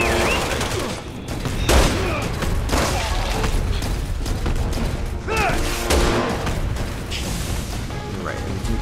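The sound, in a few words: gunfire in Resident Evil 6 video game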